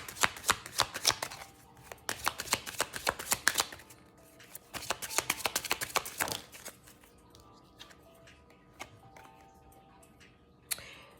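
Tarot cards are shuffled and drawn in quick riffling bursts separated by brief pauses, close and crisp, with a few lighter flicks and taps toward the end.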